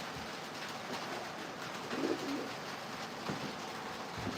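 Racing pigeons coo softly in a breeder loft, a couple of low, faint coos over a steady hiss of background noise.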